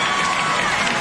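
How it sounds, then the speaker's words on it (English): A live theater audience at a talent show applauds steadily, a dense, loud wash of clapping with some crowd noise, continuous and without pauses. "Keep applauding."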